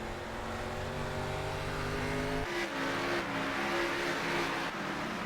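Stock race cars racing at Stafford Speedway in a racing game, a dense pack of engines droning loudly at high revs with pitch shifts as cars pass and gear changes, continuous and close.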